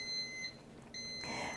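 Bread machine timer beeping at the end of a cranberry walnut loaf, a couple of short faint electronic beeps in a quiet kitchen.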